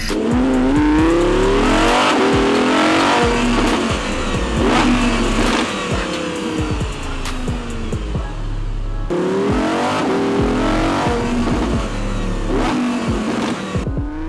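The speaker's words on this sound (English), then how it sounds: "Even at the lowest setting, the exhaust tones were still clipping the mic." A powerful Audi R8 engine revs hard and loud in repeated surges, its exhaust roaring and crackling up close and clipping the mic, with a brief pause before another run.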